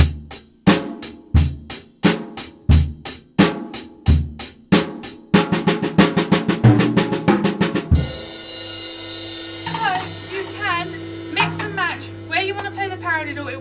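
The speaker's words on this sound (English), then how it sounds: "Then you can take it to the floor tom, which would sound like this." Paradiddle rudiment on a drum kit, first as evenly spaced loud strokes, then a faster run, moving to a deeper floor tom with a sustained low ring, ending with quieter chirping sounds.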